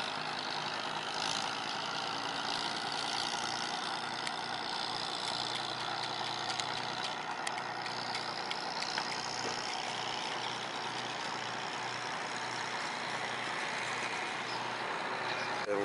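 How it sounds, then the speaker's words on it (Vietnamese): Boat engines run on a busy river in Vietnam's Mekong Delta, heard as a continuous low droning rumble with a steady hum for about sixteen seconds, moderately loud and unbroken, with no voices. "ghe tàu hoạt động rất là nhiều luôn"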